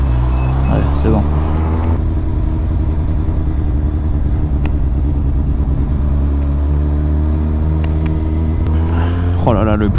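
A 2008 Suzuki GSX-R 750 motorcycle engine runs loud and close, holding a deep, steady idle rumble with a quick rev near the start and another rising rev at the end.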